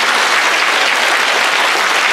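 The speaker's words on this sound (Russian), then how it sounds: "горячих зрительских аплодисментов" Dense, loud audience applause at a concert, a steady wash of many hands clapping with no pauses across the short stretch.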